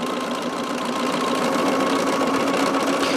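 A sewing machine stitches in a steady, fast, even whirring hum with a continuous mechanical buzz, close and alone.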